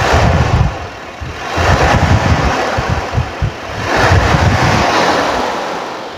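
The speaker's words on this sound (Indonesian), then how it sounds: "Raungan khas 2000 cc ya seperti ini." A 1980 Toyota Corona ST132 with its 2000 cc engine revs in two long swells, a rough, breathy roar rising and falling with wind-like noise over the mic and no voices.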